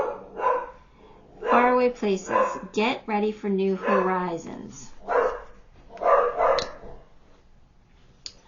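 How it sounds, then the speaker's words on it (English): Dogs bark in a few sharp bursts in the background while a person keeps talking over them. "I don't know what the dogs are barking at."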